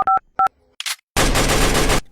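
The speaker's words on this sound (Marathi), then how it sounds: "बंटीला फोन लावतो." A phone number is dialed with two clear keypad tones, a short electronic chirp, then a burst of loud noisy static for about a second.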